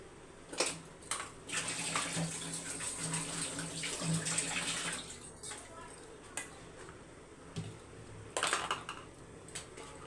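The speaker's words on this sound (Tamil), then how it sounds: "இப்போ இதை வடிகட்டில் தான் வடிகட்டணும்" Liquid poured and strained through a kitchen strainer, a steady close trickle and splash running for several seconds with occasional clinks of utensils and faint background noise.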